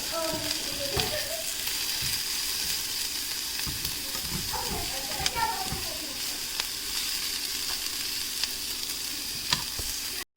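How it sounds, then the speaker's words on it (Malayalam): Ginger and garlic fry for a chicken curry, making a continuous sizzle, with a spoon stirring and scraping through the pan at intervals. "ഇപ്പോൾ ഇഞ്ചി വെളുത്തുള്ളി ഞാൻ ആഡ് ചെയ്തിട്ടുണ്ട് ഒരു നല്ലോണം ഒന്ന് ഇളക്കി കൊടുക്കുക"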